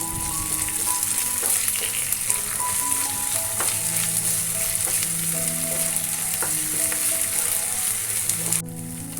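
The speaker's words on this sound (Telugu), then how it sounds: "2 కట్ చేసిన పచ్చిమిరపకాయలు, 1 స్పూన్ అల్లం వెల్లుల్లి పేస్ట్ వేసుకుని పచ్చివాసన పోయే వరకు వేయించుకోవాలి" Chopped green chillies and ginger garlic paste frying in hot oil for a mushroom chana curry, a loud continuous sizzle with scraping stirs, close up, with no talking.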